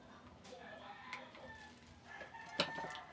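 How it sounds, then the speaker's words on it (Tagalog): A rooster call plays from a small bird-caller speaker, with faint clucks and a crowing burst coming through tinny and fairly quiet over low background noise. "Yun, pantawag ng ibon natin."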